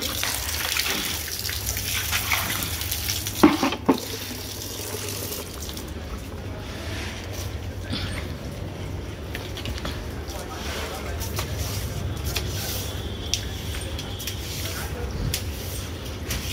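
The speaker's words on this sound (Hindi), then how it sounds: "गमलों में पानी डाल के थोड़ी धुलाई करके आती हूँ।" Water splashes and runs steadily while a balcony floor is washed and plant pots are watered, with someone talking over the continuous wash.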